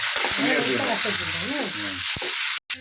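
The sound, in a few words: mustard seeds and curry leaves spluttering in hot oil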